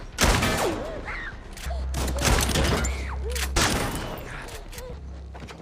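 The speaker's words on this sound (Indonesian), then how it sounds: "Namun, dari belakang El Corvo langsung melepaskan tembakan ke arah Chris." A rapid burst of gunshots rings out over a dramatic music score, with a few sharp cracks recurring later amid tense sound effects.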